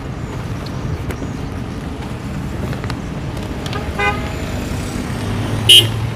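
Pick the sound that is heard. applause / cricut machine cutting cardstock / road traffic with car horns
road traffic with car horns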